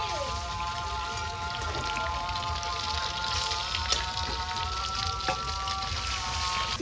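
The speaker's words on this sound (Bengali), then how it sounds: "চিকেনটা ভাজা হচ্ছে" Chicken frying in a pan gives a dense, steady crackle and sizzle that runs the whole way through, close and even, with a faint tonal hum underneath and no talking.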